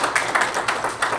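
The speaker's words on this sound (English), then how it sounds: "please give a round of applause for." Brief audience applause at a live real estate talk, a short burst of scattered hand claps from a modest crowd, light and fairly close, with no voices.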